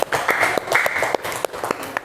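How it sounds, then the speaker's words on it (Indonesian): A class claps for a student group in a classroom, a small uneven round of applause with separate loud claps close by, thinning out toward the end. "Ya, kasih tepuk tangan."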